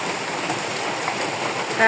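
Steady rain hissing close by, an even wash of falling water with no break throughout.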